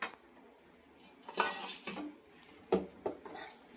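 Roasted wheat flour is scraped out of a pan, giving a few sharp metallic scrapes and clinks of a spoon against the pan, separated by quiet gaps, close and fairly soft.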